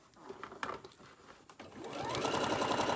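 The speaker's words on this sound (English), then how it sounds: "Don't forget to back stitch at the beginning and the end." Sewing machine stitching a fabric mat, starting after some quiet handling clicks and then running as a steady, fast mechanical whir that builds and holds to the end.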